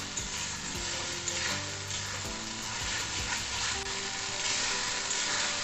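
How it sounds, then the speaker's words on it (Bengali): Spice paste for mutton kosha fries in oil with a dense, steady sizzle and bubbling, stirred continuously with soft scraping underneath at close range. "এরপর মশলার পেস্টটা দিয়ে আমি ভালোভাবে কষিয়ে নেব।"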